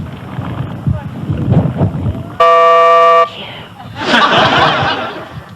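A loud, sustained car horn blares for about a second, framed by indistinct talking and chuckling before it and windy noise after.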